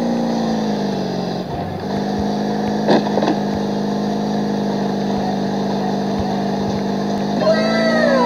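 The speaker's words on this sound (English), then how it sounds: "Speedboat racing going here." A speedboat engine in a racing game drones steadily with a buzzing, harmonic-rich whine and occasional revs, loud and continuous throughout, with a voice talking over it.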